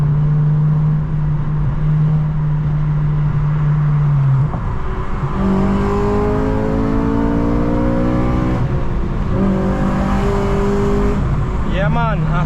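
Heard from inside while driving, an 8th-generation Honda Civic Si's VTEC engine hums steadily, then climbs through two strong revving pulls separated by a shift, loud and close, with a brief vocal exclamation at the finish.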